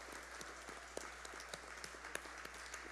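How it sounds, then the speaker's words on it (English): Faint, scattered clapping from a small audience at a cultural award ceremony honouring St. Maarten performers, with sparse individual claps over a quiet background hum. "give them a round of applause"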